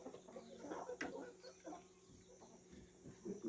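Laying hens settling down to roost at bedtime, giving soft scattered clucks and low murmuring calls up close, with a person's quiet voice briefly mixed in.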